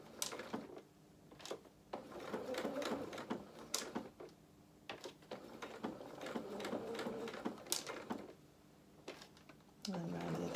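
A sewing machine stitches a doll's dress in short bursts, pausing between runs as the needle is left down to pivot, with quiet speech during the gaps.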